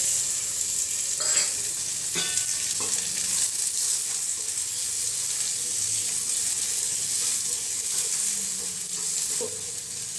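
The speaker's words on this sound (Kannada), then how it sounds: "ಹುರಿಬೇಕು, ಈರುಳ್ಳಿ ಕೆಂಪಾದವರೆಗೂ." Chopped onions frying in about two spoons of oil in a home kitchen pan make a continuous close sizzle, with scattered clinks and scrapes of stirring and no talking.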